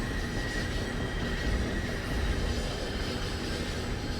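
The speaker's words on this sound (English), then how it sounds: "You can see how the locomotive is picking up some speed." An HSP46 locomotive on an MBTA line between Boston and Worcester, heard from the cab as it gathers speed, a steady loud rumble of engine and rolling wheels with a faint thin squeal, continuous and unbroken.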